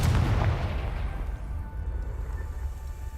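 A Confringo blasting spell going off in Hogwarts Legacy, heard as a heavy, booming explosion that hits hard at the start and then rumbles off into a long, dense low tail.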